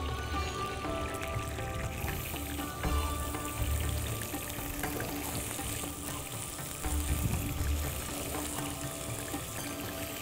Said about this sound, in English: Now you have to add around 4 tablespoons of oil and transfer all the onions into the pan.